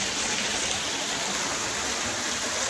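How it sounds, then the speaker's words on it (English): A waterfall roars in a steady, dense, loud rush with no pauses, heard close by on Michigan's northern coast in fall. "I gotta check this out because you can go under the waterfall"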